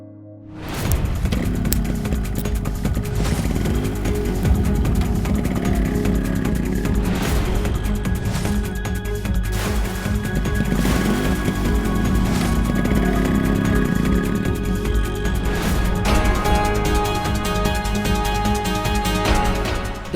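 A motorcycle arrives, its engine building from silence into a loud, sustained rumble with revving swells and mechanical whine, continuing close by for the whole stretch without any talk.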